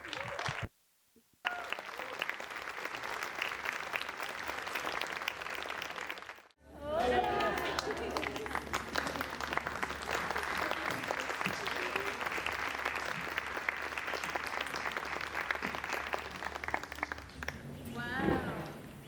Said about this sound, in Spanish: denle un gran aplauso a las Morras Malditas